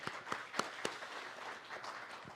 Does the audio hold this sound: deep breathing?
no